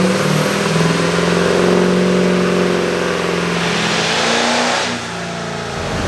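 A MiniMax race car on a dyno, its engine revving hard in one long sustained pull, loud and close with a rising droning tone, then easing off near the end.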